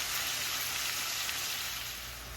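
Steak pieces for hibachi sizzle steadily in a pan of melted butter, a dense, even hiss that holds at a constant level throughout with no voices.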